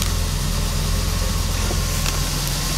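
A DeLorean DMC-12 engine idling steadily around 850 RPM under an idle speed control unit, a close, continuous low rumble with an even pulsing beat.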